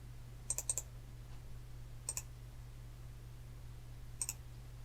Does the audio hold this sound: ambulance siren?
no